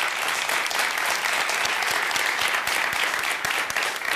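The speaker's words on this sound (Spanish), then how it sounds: "A ellos les dedicamos humildemente este aplauso del público" A television studio audience applauds on a Chilean news talk show, a dense, steady wash of clapping that carries loudly and unbroken for several seconds.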